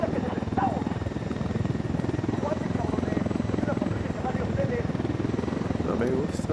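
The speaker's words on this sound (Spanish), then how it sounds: "Atrás de nosotros está un helicóptero lila que nos está siguiendo" A purple enemy helicopter in Ghost Recon Wildlands thrums close behind the players, its steady rotor chop and engine drone continuous beneath gunfire-free gameplay while a player talks over it.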